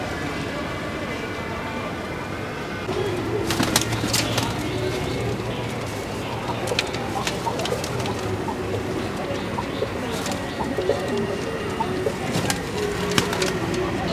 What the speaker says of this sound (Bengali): এসে কবুতরকে খেতে দিলাম